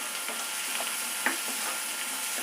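Onions softening in a pan with a little salt give a soft, even sizzle, with faint occasional stirring taps.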